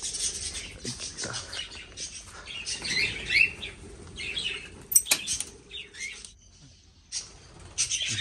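Quails flutter and scuffle in their enclosure at morning feeding time, bursts of wing flapping mixed with faint chirps, moderately close and uneven, with no talking.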